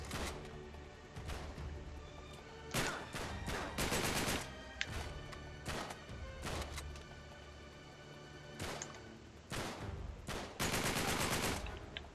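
Rapid bursts of automatic gunfire and single shots from the video game Uncharted 3: Drake's Deception, loud and close, coming in repeated clusters with short pauses between them.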